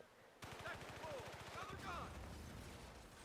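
A turret is shot at in Battlefield Bad Company 2 with rapid automatic gunfire, a fast run of loud, even bursts, then a denser blast of game noise, with a voice talking over it.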